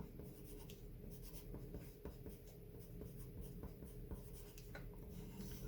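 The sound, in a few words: pen writing on paper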